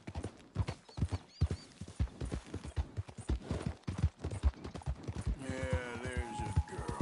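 Horse hooves clip-clop in a steady galloping rhythm in the video game Red Dead Redemption 2, close and distinct, with a horse snorting or whinnying near the end.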